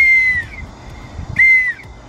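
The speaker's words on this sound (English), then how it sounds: "just get yourself a whistle" A whistle blown through a snorkel gives two shrill, steady tones, each roughly half a second long and separated by a short gap, loud and close with no talking.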